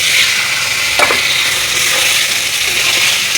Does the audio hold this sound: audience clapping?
no